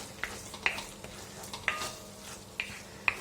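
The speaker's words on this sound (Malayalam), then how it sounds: "നമ്മൾ പാവയ്ക്കയും അരപ്പും ചേർത്ത് മിക്സ് ചെയ്തിട്ട് നന്നായിട്ട് ഇളക്കിക്കൊണ്ടിരിക്കുക." Bitter gourd mixed with ground coconut paste being stirred in a pan for pachadi: a low, quiet sizzle under a handful of sharp spoon clinks and scrapes spaced about half a second apart.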